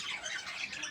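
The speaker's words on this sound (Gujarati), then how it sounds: "આજે પોપટ છે" A parrot at a small mini zoo gives one short, harsh, close squawk.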